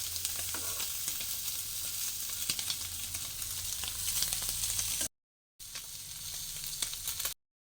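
Fish frying in a pan for a Kottayam-style fish curry, a steady loud sizzle running alone for about five seconds, a brief gap, then the crackling resumes just as strongly.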